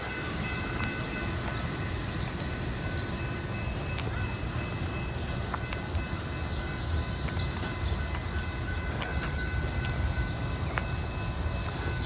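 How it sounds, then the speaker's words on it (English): Passenger train rolling past on a track, a continuous loud rushing rumble with faint wheel clicks and squeals throughout. "It's the first passenger train I've seen on this track since Amtrak quit running on here back in the late 70s or very early 80s."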